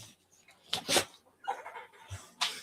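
A dog just woken from a long sleep gives soft whimpers and sharp snuffling sniffs in short irregular bursts. Quiet and close, with no talking.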